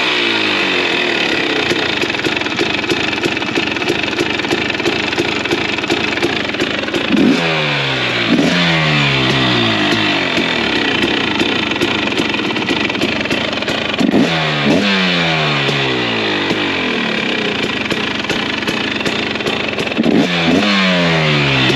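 A 2022 Husqvarna TC 250 dirt bike engine idles loudly close by, with a raspy two-stroke crackle broken by several sharp revs that climb and fall back to idle.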